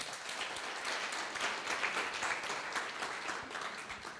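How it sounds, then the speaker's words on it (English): A crowd applauds steadily at a co-operatives bootcamp session in Gauteng, a dense wash of many hands clapping at even loudness for the whole stretch. "A round of applause."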